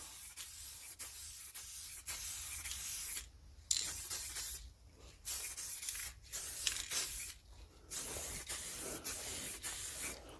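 A rattle can sprays a final coat of clear lacquer onto Jaguar XK8 side repeaters and reflectors, a soft, steady hiss in several sustained bursts with brief gaps between them.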